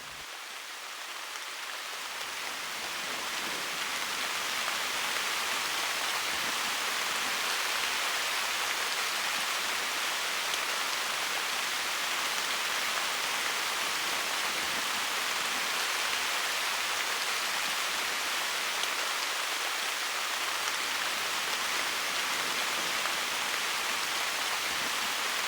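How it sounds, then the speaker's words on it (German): Heavy rain during a bicycle ride, a broad, steady hiss of water and spray that swells in the first seconds and then holds loud and constant, with no voices. "Da es nicht mehr aufgehört hat zu regnen, habe ich mich dazu entschlossen, einfach durch den Regen zu fahren."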